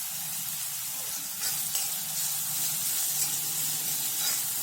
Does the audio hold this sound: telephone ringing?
no